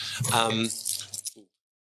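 Keys jangle on a keyring with a small portafilter attached, a brief bright metallic rattle mixed in under close conversation.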